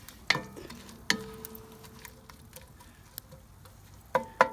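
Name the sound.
stirring hot Italian sausage sizzling on ceramic grill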